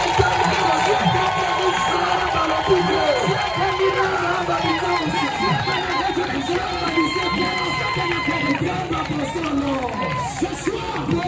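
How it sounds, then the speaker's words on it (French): A large crowd at an outdoor evening gathering of a pastor at an esplanade in Nkombo, Congo, cheers and shouts acclaim continuously, with voices and chatter over a steady roar of the crowd. "On acclame le roi."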